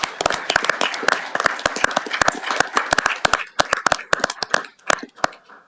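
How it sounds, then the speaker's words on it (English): Applause and clapping from an audience at a city council meeting, a dense run of sharp claps that thins into scattered individual claps near the end. "One more round of applause to everyone for."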